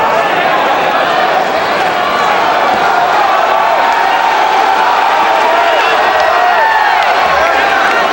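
A home crowd roars steadily through a professional boxing bout between Bash Ali and Bobby Czyz, a loud, continuous wash of cheering and shouting with scattered claps that never lets up.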